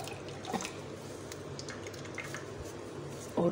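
Soaked almond and date paste is squeezed by hand while making sardai, giving faint wet squishes and a few soft drips in a quiet kitchen.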